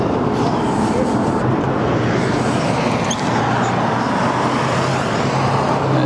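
A loud 2006 Saxon Sceptre Softail Pro Street motorcycle engine with Saxon exhaust roars continuously at close range, a dense rumbling drone with a brief dip midway before it settles back into a steady run.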